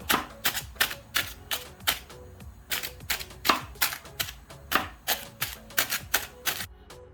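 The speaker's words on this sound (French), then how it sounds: "je prends un couteau et je viens piquer" Rapid series of sharp, crackly punctures, close and crisp, as a knife repeatedly stabs through an aluminium foil packet wrapping a chicken, in an uneven, steady rhythm.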